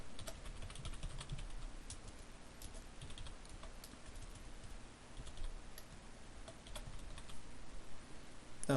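Fingers type on a computer keyboard with a continuous patter of soft key clicks, close and fairly quiet, running steadily with brief pauses.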